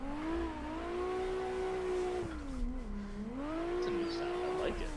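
A revving video game car engine with wavering pitch, rising and falling as it accelerates, with a few faint exhaust crackles near the end.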